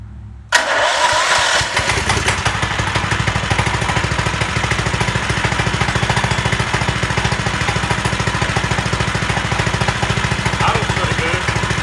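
Small go-kart engine being started and left running, with a brief pull at the start, then a steady rapid putter that holds evenly throughout.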